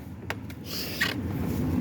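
A 2004 Dodge Ram Laramie quad cab with a Hemi V8 idles steadily close by, a low continuous rumble with a faint hiss and a few light clicks, and no voices.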